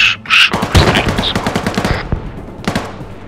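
Rapid automatic gunfire in ArmA 3, a loud burst of sharp close shots in quick succession with a few later cracks after a brief pause, no talking.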